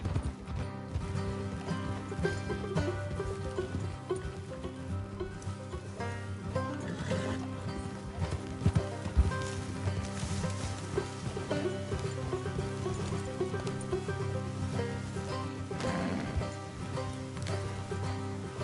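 Horses' hooves clip-clop in Red Dead Redemption, a steady trot set deep inside dense game music and ambience, with faint rain-like background wash and an occasional whinny.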